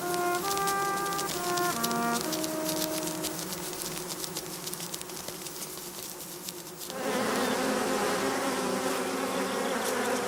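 Honey bees buzzing inside the colony, a dense continuous hum of many wings with shifting tonal drones, close and steady throughout and swelling louder and fuller in the last few seconds.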